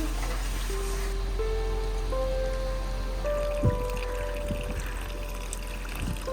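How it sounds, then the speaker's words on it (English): Rain falling along the trail to Everest Base Camp, a steady wash of drops and trickling water under a faint droning hum, with a couple of brief knocks partway through. "May the rain end soon."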